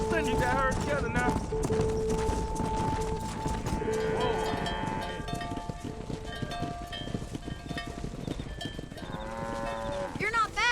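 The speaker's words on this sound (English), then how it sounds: "Keep that herd together now." Cattle herd lowing and mooing while driven on horseback in the Red Dead Redemption video game, with hoof clip-clop and a rider calling out over a busy game soundtrack, moos rising clearly near the start and end.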